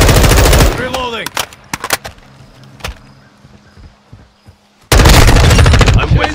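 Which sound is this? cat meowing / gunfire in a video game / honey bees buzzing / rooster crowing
gunfire in a video game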